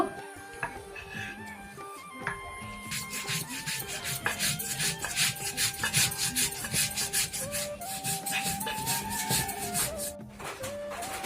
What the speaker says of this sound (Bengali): এখন এই চালটা আমি বেটে নিব।